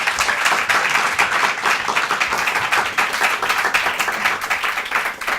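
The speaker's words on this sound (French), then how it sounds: "Je vous demande d'applaudir l'incroyable Mao." A studio audience at a televised talent show applauds a young stand-up comedian walking on, loud dense clapping from many hands sustained evenly throughout.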